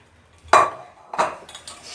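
Pot of keşkek with meat set down on a stove, two close metallic clanks of pot against burner about half a second apart, followed by a faint rattle.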